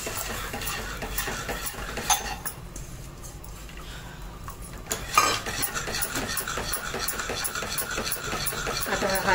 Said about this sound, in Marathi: आता इकडे पाण्याला उकळी आली तर हे असं चीक टाकून हलवून घ्यायचं